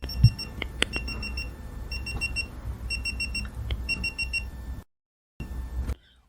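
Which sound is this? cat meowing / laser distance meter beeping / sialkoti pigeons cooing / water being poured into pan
laser distance meter beeping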